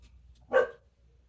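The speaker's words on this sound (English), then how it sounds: "The dog is trying to come back in." A single muffled dog bark, slightly distant, heard alone once against a quiet room background while the dog tries to come back inside.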